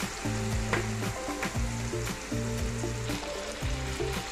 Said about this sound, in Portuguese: Cozinhei as batatas, vou jogar as batatas aqui agora. Deixo elas dourar um pouco.